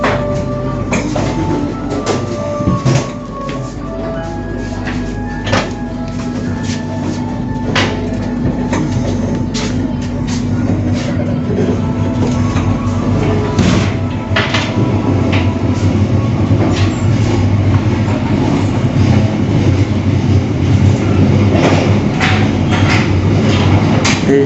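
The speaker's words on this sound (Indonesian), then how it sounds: "Nanti akan ada yang masuk jalur 2 kereta api Tegal Bahari dari Pasar Senen dengan tujuan stasiun Tegal" Tegal Bahari passenger train running into platform 2 of an Indonesian station, a loud continuous rumble with rhythmic clacking of wheels and squeaks throughout, close by.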